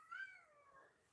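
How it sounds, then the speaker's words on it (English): A cat lets out one short, thin meow with a rising then falling pitch, faint and somewhat distant, in a quiet indoor room. "my cat is going plumb foolish."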